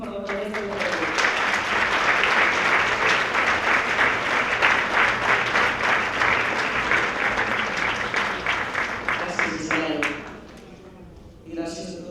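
Audience applause for the mayor of Taradell at a tribute to women textile workers, a loud, dense clapping crowd that holds steady for about ten seconds, then drops away, followed by a brief final burst.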